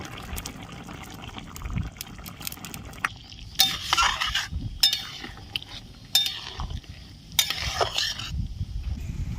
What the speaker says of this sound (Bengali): ঝোলটা ভালো মতো ফুটে উঠেছে ভেজে রাখা চিংড়ি মাছ দিয়ে দিচ্ছি